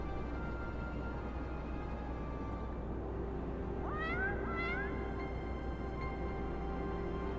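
A cat meows once in Final Fantasy XIV, a clear rising-then-falling call with a quick second note midway through the clip, heard over a steady game music and ambient bed.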